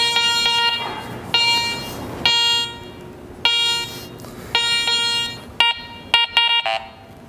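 A handheld metal detector gives a series of electronic tonal beeps, some long and some short, irregularly spaced and growing quicker and choppier toward the end, close and loud.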